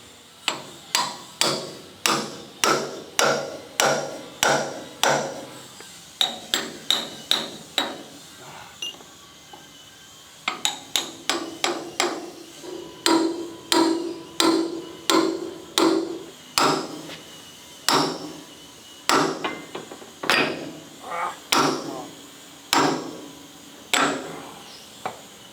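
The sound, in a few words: hammering wedges to pry out KV-1S tank hull plate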